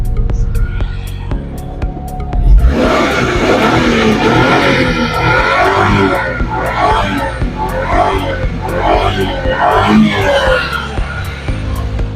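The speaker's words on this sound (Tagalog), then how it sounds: "Pin, check natin yung iyahang tambutso ha, yung muffler ha." Suzuki DA63 4WD truck engine running with its exhaust muffler, a steady low idle that swells into louder, throbbing revs midway and stays rough and close for the rest.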